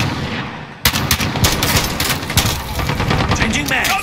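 FAL rifle fire in Call of Duty Modern Warfare: silence, then a sudden loud burst of rapid close shots continuing for a few seconds with uneven rhythm and heavy reverberant crack.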